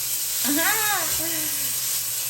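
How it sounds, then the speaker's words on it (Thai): Pork sizzles as it is stir-fried without oil in a nonstick pan, a steady bright hiss running throughout while a voice speaks briefly over it. "หมูลงไปผัด"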